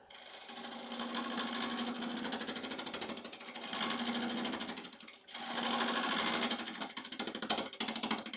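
Ash bowl blank spinning on a wood lathe as the outside is roughed out, giving a loud, continuous rasping cut with rapid rhythmic chatter, pausing briefly twice before resuming, no talking.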